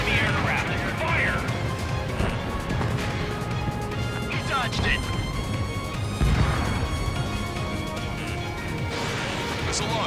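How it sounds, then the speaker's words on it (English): In the Ace Combat 7 Skies Unknown jet combat game, a missile launch sounds as a sharp whoosh and crack among repeated heavy impact bangs and thuds, with radio-style voices talking over the busy battle noise. "Missile launched."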